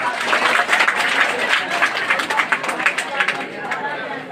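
An audience claps at a coaching centre's awards ceremony honouring Bihar Board class 10 and 12 results. The applause is loud, uneven and crowded, with a murmur of chatter mixed into the clapping.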